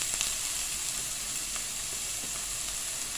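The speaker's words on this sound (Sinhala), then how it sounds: "ලුණු ගොඩක්ම කර වෙන්න බදින්නේ නැහැ. අඩු ගින්දරේ තමයි මම මේක හදාගන්නේ." Onions frying gently in a pan over low heat, a soft steady sizzle with faint stirring clicks, quiet and continuous.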